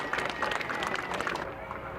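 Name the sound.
audience applause at a Memorial Day ceremony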